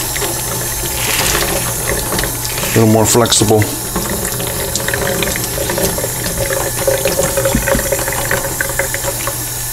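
Tap water runs steadily into a sink to soak sausage casing in a kitchen, a close, continuous splashing rush with dish clatter, while someone talks over it.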